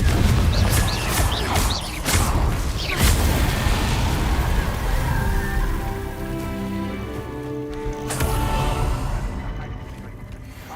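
A Confringo fire spell explodes in a Harry Potter video game: heavy booming blasts with crackling, rain-like debris over a continuous low rumble, loud and close, with sharp bursts early on that settle into a dense roar.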